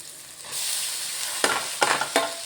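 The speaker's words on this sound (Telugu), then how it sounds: "ఇప్పుడు మనం ఉల్లిపాయ వేసుకుందాం." Onion drops into bitter gourd frying in a pan, and the sizzle jumps louder, followed by three sharp scraping stirs near the end, close and without talk.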